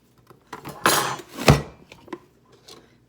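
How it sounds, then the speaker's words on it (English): A whole onion pressed through a manual food dicer for Thanksgiving stuffing, giving a few sharp chopping clunks with one strong central chop, close and clear, with no talk. "So we're gonna use my nice dicer that I have here."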